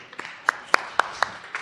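Scattered hand claps at a special city board of aldermen meeting, welcoming new staff: about seven distinct sharp claps, a few louder than others, in an otherwise quiet room.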